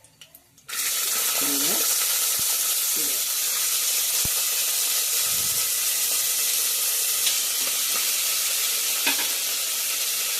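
Kidney beans hiss and sizzle in a hot pan for a beans palov, a loud steady frying rush that starts abruptly after a short quiet moment, with a few faint scrapes of stirring beneath it.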